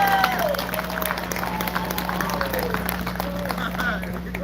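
Applause from a crowd at an outdoor paintball event, scattered clapping under a steady electrical hum and some faint background voices, moderately loud throughout.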